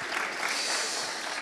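Audience applause at a French climate conference, a steady wash of clapping that fills the whole moment at moderate, slightly distant level with no voices over it.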